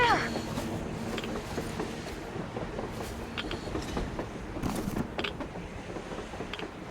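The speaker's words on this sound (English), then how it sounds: "A damn train on the surface!" Train rolling on the surface in the Metro Exodus video game, a faint steady rumble with rhythmic clicking under game sounds and voices.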